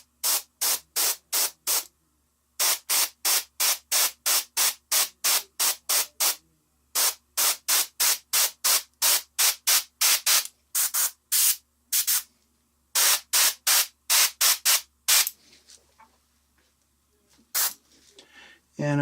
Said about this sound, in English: And we're going to spray from the angle of the light source.